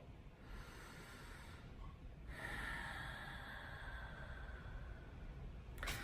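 A man takes slow, audible breaths close to the microphone, drawing a long inhale and then a lengthy exhale, quiet and unhurried, with no talking.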